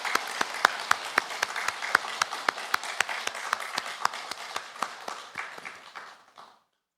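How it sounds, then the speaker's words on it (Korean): A church congregation applauds during a Sunday worship service, a steady wash of many hands clapping for several seconds before fading out quickly, with no talk over it. "이 시간 찬양을 받기에 합당하신 하나님께 영광의 박수를 올려드리겠습니다"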